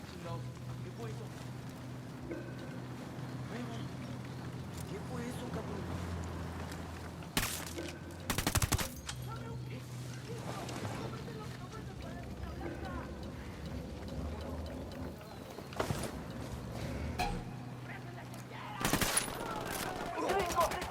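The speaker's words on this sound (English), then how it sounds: "opening fire" Gunfire in the tactical shooter Ghost Recon Wildlands, a few short loud bursts cutting through a steady low game ambience, with voices talking over the scene.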